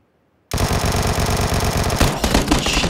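Sustained automatic gunfire from a PUBG weapon bursts in after a half second of silence and hammers on loud and rapid to the end, with a brief extra crack near the two-second mark.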